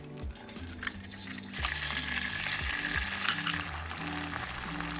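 An egg fries in a hot pan for ramen. A soft sizzle swells and keeps crackling under steady background music.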